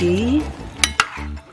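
A spoon stirring chicken curry with evaporated milk and ginataang gulay mix in a pot, a couple of close scraping clanks against the metal over a low simmering sizzle, after a brief spoken word.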